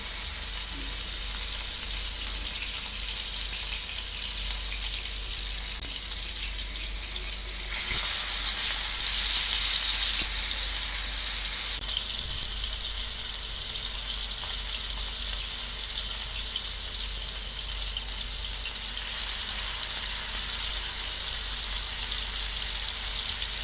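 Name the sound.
chapli kababs frying in oil in a pan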